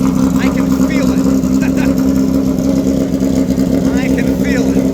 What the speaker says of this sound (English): Let you listen to that engine running. Sounds amazing.